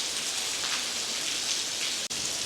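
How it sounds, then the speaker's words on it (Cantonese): Heavy rain pours down at the China Railway Museum, a dense, steady hiss of drops on surfaces that stays constant apart from a brief dropout near the end, with no voices. "因為好大雨啊"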